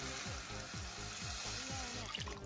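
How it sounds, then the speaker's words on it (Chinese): Clear water poured into a hot wok of stir-fried pork slices cooked in lard with scallions, soy sauce and spice, giving a steady loud sizzle with bubbling and faint repeated scraping of a spatula. "加上清水"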